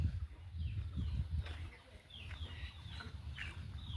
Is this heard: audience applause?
no